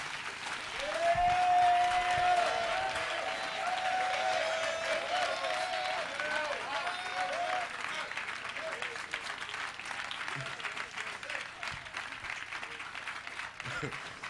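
A church congregation applauds in a long, sustained burst of dense clapping that gradually eases, with a voice rising over the crowd at the start.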